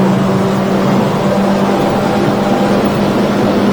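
A 2022 Stabicraft 1850 Fisher boat runs at full throttle on the water: a loud, steady engine roar with a constant hum and rushing wash throughout, no speech.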